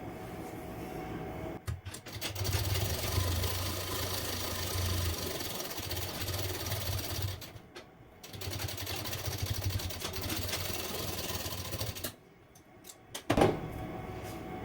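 A sewing machine stitches the edge of a princess-cut blouse, running in long steady mechanical whirring bursts that stop briefly between runs, with a small clack near the end.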